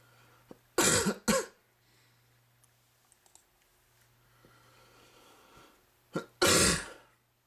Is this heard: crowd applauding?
no